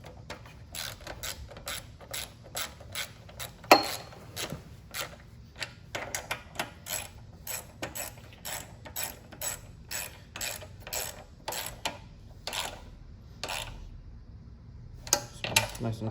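Rapid clicking bursts from a ratchet wrench turning 10 mm carburetor bolts on a Generac 3100 PSI pressure washer, close and crisp, in repeated short runs with brief gaps between them.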